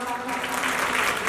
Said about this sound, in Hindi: तालियां कौन बजाएगा?